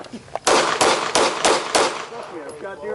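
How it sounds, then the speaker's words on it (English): Five pistol shots fired at a target in handgun practice, sharp loud cracks spaced roughly a third of a second apart, followed by fading ring and faint range ambience. "I shot 5 and I shot them all in the head"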